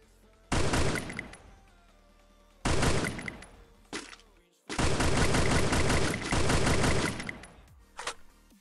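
Bursts of rapid automatic gunfire in the Free Fire battle royale game: three long, loud volleys, each lasting a second or more, separated by short pauses and a few brief single shots.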